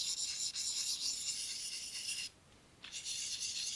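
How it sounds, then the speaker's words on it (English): A knife blade worked in small circles on a sharpening stone, giving a steady close rasping hiss that breaks off briefly and then resumes, with no talking. "I won't just sharpen it on camera here all day for you, but like I say, I'll do it on both sides"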